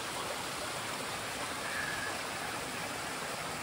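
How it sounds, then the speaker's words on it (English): Running water rushes in a continuous broad hiss, a small creek spilling over a little waterfall close by on Wilsons Promontory, steady with no voices. "Nice little creek here, little waterfall."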